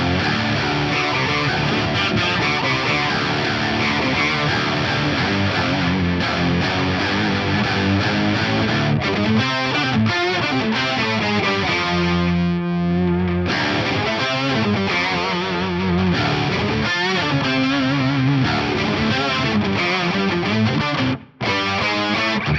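An electric guitar played through a Fractal effects unit with an octave pitch effect placed after distortion, producing a loud, thick, saturated tone that sustains continuously with a brief pause near the end.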